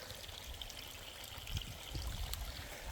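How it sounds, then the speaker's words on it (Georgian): Water babbles and pours steadily at a waterfall in Arkansas, a continuous broadband rush that holds at moderate level and swells slightly toward the end, with no talking over it. "ამას ეძახიან ბევრ ჩანჩქერს."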